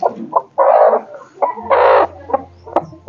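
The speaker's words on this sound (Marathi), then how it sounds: "बघा हात लावला तर कशी करते" A broody country hen gives loud, harsh protesting clucks and squawks in short bursts when touched, close up, with a low hum beneath.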